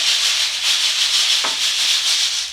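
A kayamb, the flat Réunion raft rattle filled with seeds and used in maloya and séga, shaken in a steady, continuous swishing hiss with gentle rhythmic pulses, loud and close with no voices.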